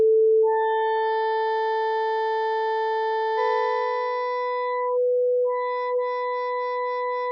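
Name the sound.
sine-wave resynthesis of sample in Outgrowth app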